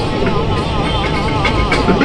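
Heard from inside, a moving train on the line to Shaktigarh and Bardhaman in West Bengal gives off a steady, close rumble with faint rhythmic clatter and a low tonal hum beneath.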